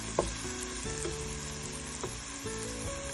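Cumin sizzles as it fries in hot oil for chana dal, a faint, constant crackling hiss with occasional small pops, beneath steady background music.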